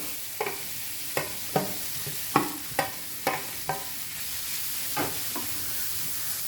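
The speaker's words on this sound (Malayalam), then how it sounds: "ഇനി ഇതിലോട്ട് നമ്മൾ ഗ്രേറ്റ് ചെയ്ത സവാള ഇട്ട് കൊടുക്കാം" Grated onion frying over medium flame in a pan for paneer curry, with a constant soft hiss and a string of regular scraping strokes from stirring, about eight in quick succession.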